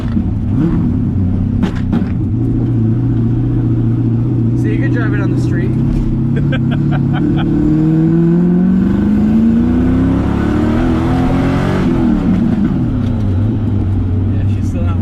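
An LS-swapped Nissan 350Z drift car engine, still not warmed up, idles with a deep rumble and then revs up in rising pulls before settling back. It sits close and loud, with people talking nearby.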